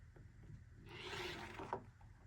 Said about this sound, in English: And then you're going to cut around the template.